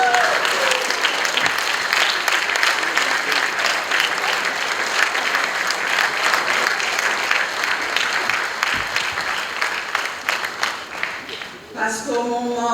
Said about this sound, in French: On va les applaudir, mais ils vont se lever. Levez-vous, on va vous applaudir.